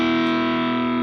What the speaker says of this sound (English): And then we're going to play this as a double stop.